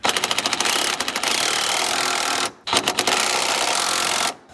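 Rapid rattling bursts from a wrench, likely a ratchet, run steadily on transmission mount bolts of a 1957 Chevy with a V8, close and loud, with a brief pause midway before a second run.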